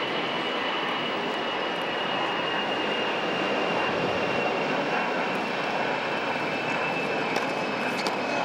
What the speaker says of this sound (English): Right up at that plane flying high overhead.